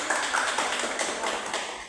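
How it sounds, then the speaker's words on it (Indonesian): Students in a classroom applaud a classmate during a maths lesson, a steady, fairly dense patter of clapping that carries on evenly throughout. "Tepuk tangan buat teman kalian"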